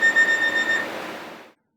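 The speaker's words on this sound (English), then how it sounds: "he attempted to re-enter the cockpit using the keypad to send a request signal, which activates a buzzer inside the cockpit." Cockpit door request buzzer on an airliner, a steady electronic tone pulsing rapidly, close and fairly loud, that sounds for about a second and then fades out with no voices.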